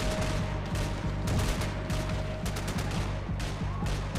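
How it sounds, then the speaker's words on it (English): Sustained video-game gunfire from Max Payne 3 during a firefight with police, rattling in repeated bursts over a low steady hum, loud and close with no talking. "Who are you shooting at?"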